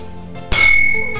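A single sharp metallic bell strike rings out suddenly, loud and close, with a bright clang that lingers and slowly decays against a quiet background.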